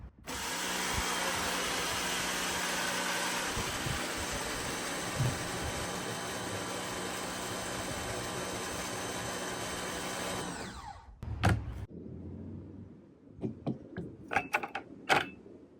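A Ryobi 1.8 GPM automotive pressure washer fitted with a 15-degree nozzle sprays with a loud, steady hissing roar for about eleven seconds, then cuts off, leaving a few sharp clicks and knocks.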